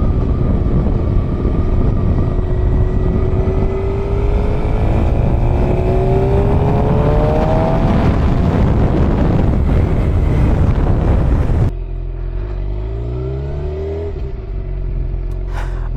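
A motorcycle rides along a road, its engine droning and rising in pitch as it accelerates under heavy rushing wind noise, then a sudden quieter stretch with the engine still audible.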